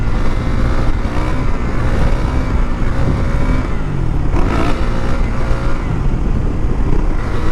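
Motorcycle being ridden with its check engine light on, engine drone loud and steady throughout with wind noise, a brief surge of rushing noise midway, no talking.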